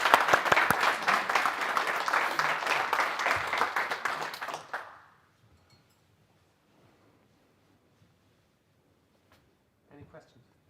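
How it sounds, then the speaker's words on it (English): A small meetup audience applauds after a tech talk at Swiss Life in Zurich, a dense round of clapping lasting about five seconds before stopping abruptly into quiet. "oh, first, applause."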